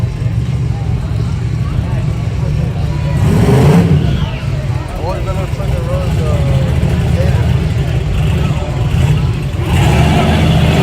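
Street truck at a drag strip shootout roars past with a steady, loud engine drone that swells briefly in the middle, heard from the sidelines with crowd noise around.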